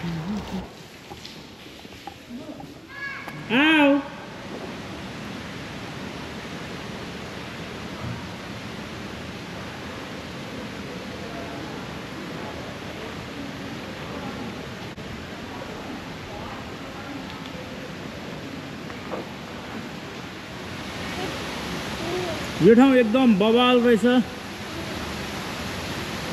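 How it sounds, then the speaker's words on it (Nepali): Small indoor waterfalls in the main indoor garden at Longwood Gardens, a steady, even rush of falling water throughout, with people speaking briefly near the start and end. "उपर सानो सानो झरनाहरूबाट पानी आइरहेको छ।"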